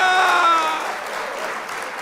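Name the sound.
applause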